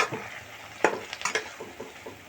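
Cucumber pieces and tamarind sizzle in a hot pan under a soft steady crackle, broken by a few scraping stirs of a spatula against the pan.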